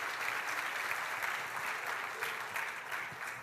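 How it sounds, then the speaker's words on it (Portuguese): Church congregation clapping in praise during an evening service, a dense, steady roar of applause held at an even, fairly distant level for several seconds. "Vamos dar um aplauso ao Senhor pela vida do pastor Rodrigo."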